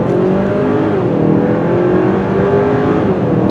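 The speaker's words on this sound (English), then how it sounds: "with this sweet gearbox, combined with the strong engine, acceleration's not an issue" A 2022 Hyundai Santa Cruz pickup accelerates on the road, a loud, steady engine and road roar heard from inside or close by, with no talk.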